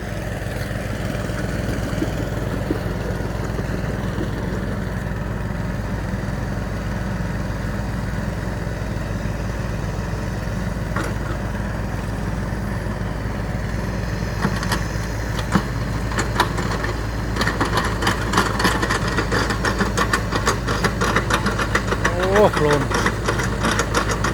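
A pair of water pumps, one small and one large, run steadily for draining a fish pond, a continuous engine drone with a low throb throughout, while people talk intermittently in the background.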